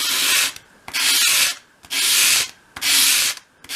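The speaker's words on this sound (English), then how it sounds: "with your sandpaper flat on your work surface, hold the piece at a 45-degree angle and sweep it towards you" Sandpaper laid flat scrapes as a small wooden piece for a 1/12 scale dollhouse storage unit is swept across it at an angle to form a bevel, four loud rhythmic rasping strokes with brief gaps, close up and without talk.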